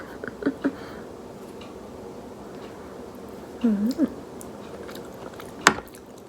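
Someone bites and chews Dungeness crab, a few close crunchy bites and chewing sounds spread over a quiet background.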